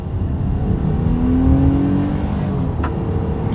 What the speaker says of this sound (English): let's do the acceleration test here with the Pathfinder having full control, and let's see how quickly this thing can get us here up to speed